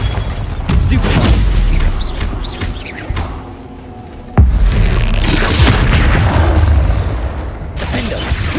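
Booming Bombarda explosion spells in the Hogwarts Legacy video game, heavy blasts erupting loud and close in two sustained waves with crackling debris and magical shimmer, separated by a brief quieter lull.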